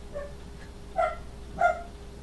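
A dog barks three times in short, separate yaps, somewhat distant and fairly quiet, with no talking.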